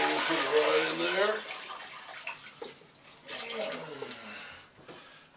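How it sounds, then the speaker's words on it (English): Water drained and poured from a salad spinner into a container in a kitchen, a splashing, trickling pour with a sharp onset that thins and returns in bursts, close and fairly loud, while a person talks over it. "we're going to go ahead and drain and get a lot of this water right out of here."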